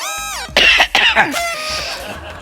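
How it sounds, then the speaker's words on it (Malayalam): A person coughs a couple of times up close, harsh bursts with a brief pause between them, followed by a raspy throat-clearing. "ഞാൻ 2 പ്രാവശ്യം ചുമച്ചായിരുന്നു"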